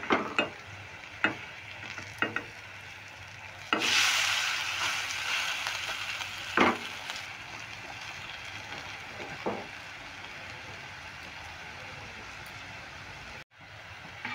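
Bread pieces frying in hot oil in a wok (kadai), a steady soft sizzle with a few sharp clicks and utensil taps, a louder burst of crackle when pieces are turned, heard alone without talk.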